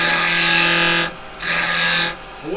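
A wood lathe cuts a tenon on a spinning workpiece with a carbide chisel, heard as two loud, close scraping bursts of about a second each, separated by a short quieter pause. No talking.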